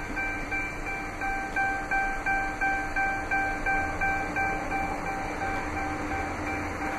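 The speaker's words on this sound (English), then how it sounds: "the different sound it makes whenever your key fob has left the Charger, the vehicle" Inside a 2014 Dodge Charger, a key fob out-of-range alert chimes as a rapid string of evenly spaced high beeps over steady cabin rumble.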